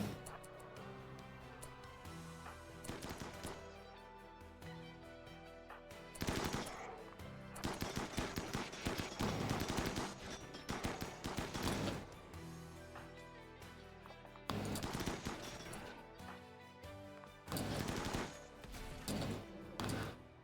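Repeated bursts of automatic gunfire from EMP bullets in a video game, loud and rapid, with several separate volleys broken by short pauses and a constant game soundtrack underneath.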